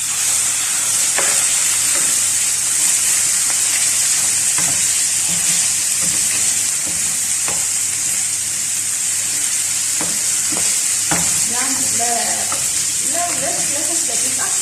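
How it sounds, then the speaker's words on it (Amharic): Meat fries in cooking oil with a steady sizzle throughout, broken by scattered stirring scrapes and clicks that grow busier toward the end. "ስጋውን ጠብሳለሁ።"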